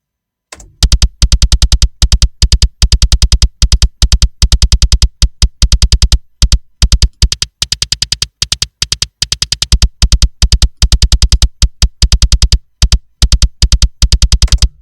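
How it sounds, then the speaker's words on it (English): Rapid, tight metal kick drum blended from three microphones, hammering dense double-bass runs of sharp clicky hits in bursts with brief gaps, loud and close with no other instruments or voices. "A tight, clicky bass drum."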